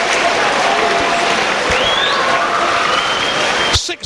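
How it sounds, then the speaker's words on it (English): Standing ovation from a football crowd at Grimsby Town after a 6-5 win over Burnley, a steady loud wash of clapping and faint cheering that cuts off abruptly at the end. "And a standing ovation from this crowd here, not just for Town, but for Burnley as well."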